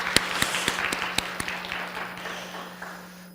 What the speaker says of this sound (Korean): 박수 한번 하도록 하시겠습니다.